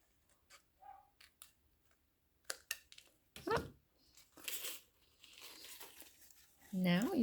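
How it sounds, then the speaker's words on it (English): Plastic is taped onto a paper shadow puppet with scattered crinkles, tape tearing and rustling handling noises in quick bursts, fairly close, and a voice speaks near the end. "Tape it on our side and can trim the excess off."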